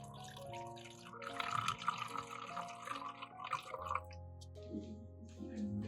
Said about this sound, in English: Pour a little beer, about 3/5 cm,